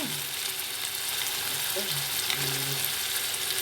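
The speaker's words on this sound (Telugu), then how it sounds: "అది వేగుతుంది చూడండి." Ingredients frying in a pan for a ridge gourd and dried shrimp curry, giving a steady close sizzle with faint stirring and no talk.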